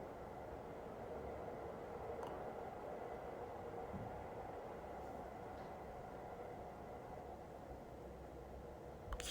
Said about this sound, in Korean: 이건 기차 소리인가 봐요 여러분.